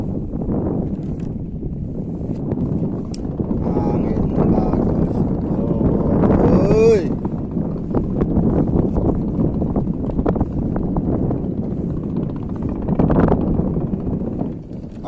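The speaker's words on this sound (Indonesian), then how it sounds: "Angin bagus." Steady wind blowing across an open fishing spot in the rainy season, a broad constant rush with gusting swells throughout, close to the microphone, with faint voices briefly in the background.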